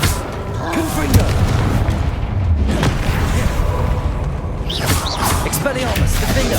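A Confringo spell explodes in Hogwarts Legacy amid a fight, giving a loud, dense boom with rumbling debris and clashing game effects, a speaking voice running underneath.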